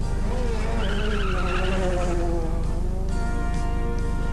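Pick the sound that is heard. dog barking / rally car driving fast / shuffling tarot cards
rally car driving fast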